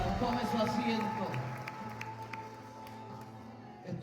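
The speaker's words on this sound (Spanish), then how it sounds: "Dale fuerte ese aplauso" Church congregation at a Spanish-language service applauding, a continuous wash of clapping that gradually fades, with voices and a low sustained tone underneath.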